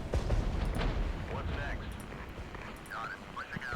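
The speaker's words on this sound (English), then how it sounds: "That's just lots of artillery fire." Artillery fire in the Regiments strategy game, a dense barrage of booming, rumbling blasts that pile up loudly at the start and then keep thudding and crackling steadily underneath.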